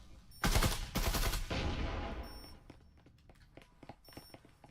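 Gunfire in the VR tactical shooter Breachers during a competitive match: a loud, dense burst of rapid shots in the first seconds, followed by quieter scattered clicks and pops.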